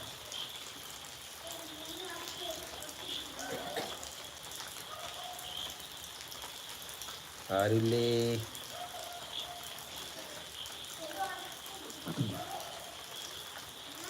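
Light rain keeps up a steady, soft hiss across the whole stretch, while a voice speaks briefly in a few short bursts over it, one louder phrase near the middle.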